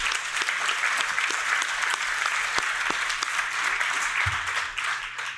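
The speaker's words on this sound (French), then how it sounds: "peut-être une main d'applaudissement pour l'organisation" Sustained applause from a gala audience in Thetford, steady dense clapping filling the room throughout without letting up.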